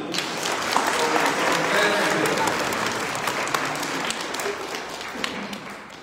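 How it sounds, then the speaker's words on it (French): A congregation at Sunday Mass applauds, a dense sustained wash of many hands clapping that fills the room and slowly thins toward the end, with a few louder individual claps standing out. "On peut les applaudir."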